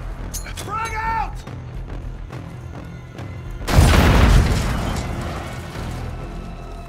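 A grenade goes off in a third-person video game deathmatch at night: a deep, loud boom erupts partway through and fades into a long rumble, after a short stretch of game sounds and a brief voice.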